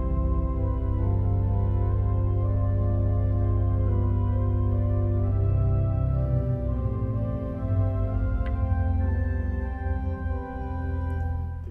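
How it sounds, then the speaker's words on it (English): The chancel pipe organ at National City Christian Church in Washington DC plays its celeste stop combined with a gedeckt, giving full, sustained chords with a strong bass foundation that shift gradually over about twelve seconds, with no voices. "I would also like to combine it with the gedeckt."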